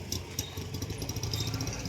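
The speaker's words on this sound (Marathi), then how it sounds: "रिक्षा काढतो बाहेर." An auto-rickshaw engine idles close by with a steady, rattling low putter that holds even for the whole two seconds, with no voices over it.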